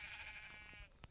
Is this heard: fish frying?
no